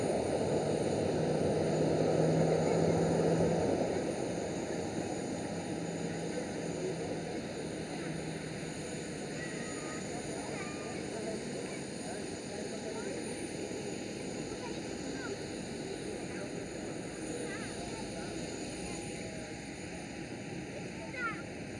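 A Boeing 737 airliner arrives at Amsterdam airport, its engine roar loudest early on, then fading to a lower steady rumble, with people talking over it.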